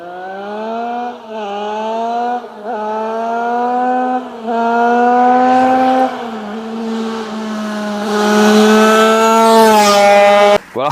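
Rebuilt racing motorcycle engine on a test ride, droning loudly and steadily as it revs up and down through several rising passes, with a brief cut near the end.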